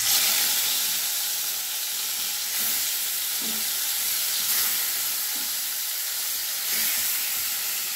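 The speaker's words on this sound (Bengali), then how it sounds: "কড়াইয়ে 3 চামচ তেল গরম করে নিয়েছি। এবার মাছগুলো ভেজে নেব।" Marinated rohu fish pieces fry in about three spoons of hot oil in a wok over medium heat, giving a loud, even, continuous sizzle and hiss with a few soft taps, without any talking.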